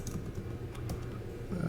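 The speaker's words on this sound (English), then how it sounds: "type in letters" A brief burst of clicking keys on a computer keyboard as letters are typed into a search field, close and moderately loud with no voices.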